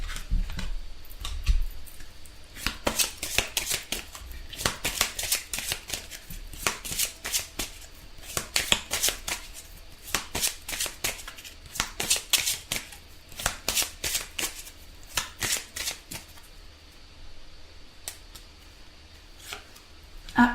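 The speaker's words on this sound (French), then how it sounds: "Donc on va tirer maintenant une carte des anges, on va prendre ceci et on va voir ce que les anges nous disent." Angel oracle cards being shuffled by hand in a long series of crisp, riffling bursts, close and fairly loud, with short pauses between shuffles.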